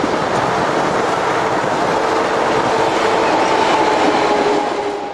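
BB16500 electric locomotive 16696 hauling push-pull passenger stock passes close by on a European line in summer 2002, a steady loud rumble with wheel clatter across the whole stretch, easing slightly at the very end.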